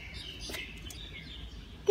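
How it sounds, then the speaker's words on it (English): A bird chirps faintly in the distance on an outdoor dog walk, a few thin high calls rising over steady background hiss. "That one is a bird. See, you can hear the bird."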